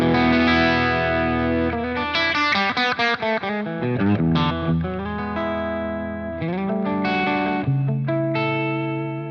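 Clean electric guitar, a Smitty custom Telecaster through a Rev D20 all-valve head, plays a close, loud phrase of chords and single notes, slightly hairy in tone, with quick strummed hits early on and ringing sustained chords later.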